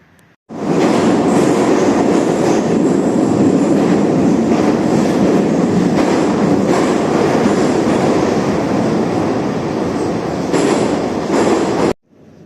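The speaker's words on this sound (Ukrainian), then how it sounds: "Це станція метро Арсенальна." A Kyiv metro train roars steadily through Arsenalna station, a loud sustained rumble of wheels and carriages that fills the whole stretch before cutting off abruptly at the end.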